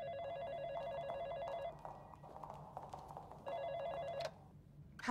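A telephone bell rings in two loud bursts of rapid repeated trilling, separated by a short pause, over a low background hum.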